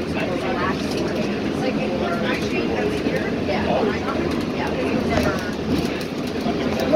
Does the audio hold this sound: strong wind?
no